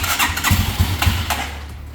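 A 2021 Janus Halcyon 250 retro motorcycle engine cranks and catches, a loud close sputtering start with a few rough pulses before settling into a steady idle.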